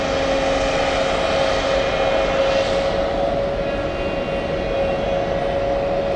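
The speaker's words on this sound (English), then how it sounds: "So, Latam, the Dreamliner, is starting up." A LATAM Boeing 787 Dreamliner at JFK Airport spools up its jet engines, producing a loud, steady roar with a sustained whine on top that holds constant throughout.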